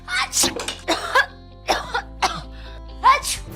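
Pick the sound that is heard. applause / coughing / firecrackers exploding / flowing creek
coughing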